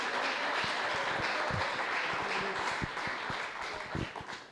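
A church congregation claps steadily in a dense, sustained wash of applause, with sharper individual claps and thumps standing out near the front. The sound eases slightly toward the end.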